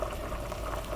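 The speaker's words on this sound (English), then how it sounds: "it's kind of bubbling on the side, so that's kind of perfect" Ham, potato and cheese soup simmers in a pot, giving a steady, close bubbling with a soft sizzle that runs evenly throughout, no voices over it.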